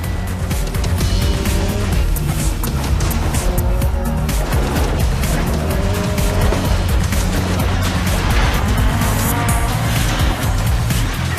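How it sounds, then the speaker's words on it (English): A five-cylinder Audi Quattro rally car in DiRT Rally 2.0 on an Argentinian stage with a famous bridge drives hard and loud, its engine steady under repeated tire squeal and skidding on gravel. "a 5-cylinder Audi Quattro in Argentina with the famous Argentinian bridge there"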